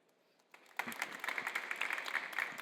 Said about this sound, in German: ihr nehmt vorweg, was ich sagen wollte. Es braucht auf jeden Fall erstmal Applaus für dich.